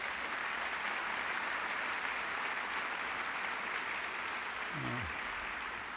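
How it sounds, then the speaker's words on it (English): An audience at a veterans treatment courts event applauds the Mexican delegation, a steady, even wash of many hands clapping from a distance, with a brief voice rising out of it near the end. "A round of applause for our Mexican delegation."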